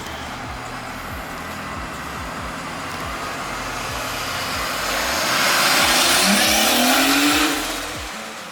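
Drift car engine running and moving in first gear, a near, steady droning rumble that swells and rises in pitch midway before dropping back off.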